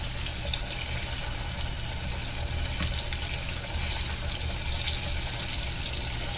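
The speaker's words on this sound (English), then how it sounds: "It'll fry up really quickly." Eggplant frying in hot oil gives a steady, dense sizzle that holds at an even level throughout, with no talking.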